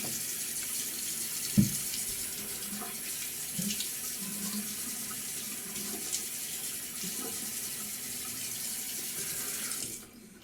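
A faucet runs steadily at a sink to wet the face before a shave, a low, even rush of water close by. One brief knock sounds early on, and the flow cuts off near the end.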